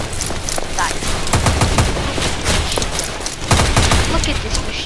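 Rapid bursts of machine gun fire in a Roblox WW1 trench warfare game, with dense battlefield gunfire throughout and louder volleys near the middle and toward the end.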